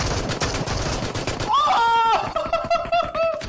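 A rapid burst of gunfire in PUBG Mobile, followed by electronic tones and beeps, with faint background noise throughout.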